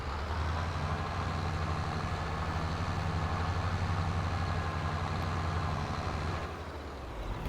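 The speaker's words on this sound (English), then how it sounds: "You just hear the engine struggling." Tractor engine in the game Farming Simulator 22 straining under load, a steady low droning rumble that holds loud and unbroken, easing slightly near the end.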